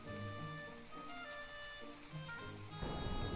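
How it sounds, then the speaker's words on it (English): Steady rain patters as ambient weather in My Time at Portia, a soft continuous wash beneath faint tonal game music. "even though it's raining"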